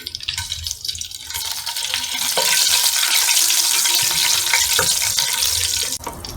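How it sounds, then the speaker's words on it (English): Garam masala, bay leaf, cinnamon, cardamom and cloves sizzling in a pan over a low flame, a close, steady hiss and crackle that swells louder partway through and carries on without any talk. "go ahead and add the garam masala, bay leaf, cinnamon, cardamom and cloves"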